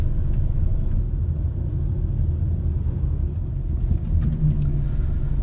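A Mitsubishi Outlander Sport drives along a road in light rain, heard from inside as a steady low engine and road rumble with no voices.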